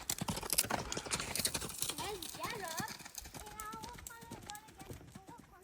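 A pony galloping in a riding arena gives close, rhythmic hoof thuds throughout, under a woman's spoken instructions.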